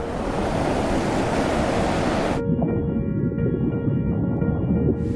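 Wild ocean waves on the Irish coast roll in as a loud, continuous wash of surf noise, with the sound thinning sharply midway to a duller, muffled roar.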